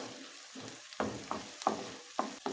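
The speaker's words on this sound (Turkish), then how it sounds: "salçamızda bir miktar daha şöyle kavurmaya devam ediyoruz" Thick tomato paste sizzles and crackles as it fries in a hot pan, with repeated scraping stirs breaking the frying hiss into short bursts.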